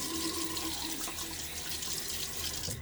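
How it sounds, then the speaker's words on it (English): Tepid hard tap water running steadily and splashing into a sink as water is thrown on the face before a wet shave, a continuous close rushing wash with no talk. "So I'm going to throw some water on my face"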